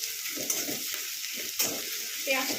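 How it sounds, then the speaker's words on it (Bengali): Onions fry over high heat in a pan, with a steady soft sizzle broken by a few scraping stirs, close and fairly quiet, with no talk. "পেঁয়াজটা একটু ভালো করে ভেজে নেব"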